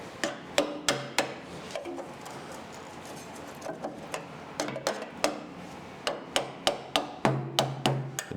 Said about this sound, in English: Let's take the hammer and hit it.